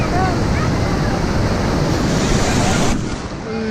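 Ocean surf pounds steadily on Pantai Panjang beach in Bengkulu, a loud continuous roar of breaking waves mixed with heavy wind buffeting the microphone, easing slightly near the end.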